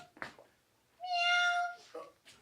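A single drawn-out cat meow, clear and close, framed by brief softer vocal sounds before and after.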